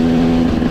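A KTM EXC 125 motorcycle engine with engine work and changed gearing runs loud and close, holding a steady, buzzing drone in one brief burst.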